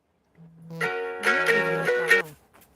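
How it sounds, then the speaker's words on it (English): A short electronic alarm melody plays a few rising and falling tones, clear and close, lasting about two seconds, with no talking. "That was my alarm telling me it's almost time for therapy"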